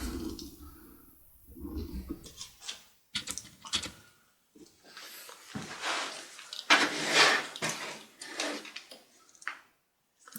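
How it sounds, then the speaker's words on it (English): A Phillips head screwdriver taking screws out of a Lenovo ThinkPad X230T laptop, a series of quiet close clicks, scrapes and small taps in irregular bursts with short silent gaps between them. "we have 1, 2, and 3, and 4 screws to take out with the Phillips head screwdriver"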